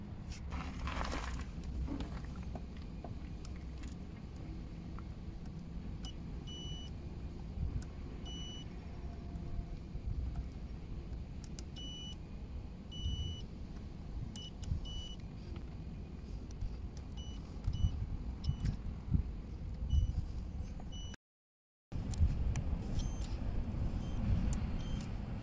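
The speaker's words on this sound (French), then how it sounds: "À chaque fois que le courant passera sur chaque fusible, on entendra le multimètre sonner" A multimeter gives short, repeated continuity beeps while car fuses in a BSI fuse box are tested, with a steady low rumble underneath and a brief silent gap near the end.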